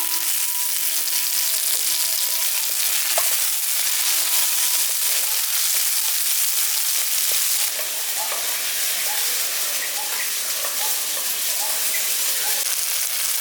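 Chopped tomato, cut into long strips, sizzles loudly in a pan of frying onions as a steady, close hiss and crackle that settles slightly as it cooks, with no talk.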